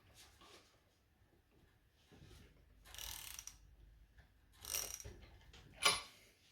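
A standard drive socket reverses the nut on a LockDown ratchet lock washer, giving quiet clicking ratchet and metal-on-metal mechanism sounds in a few short bursts, ending with a sharper click.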